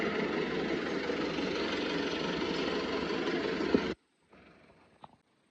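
Tractor engine running steadily during a wheat harvest, a loud continuous low rumble that cuts off abruptly, followed by faint scattered noises.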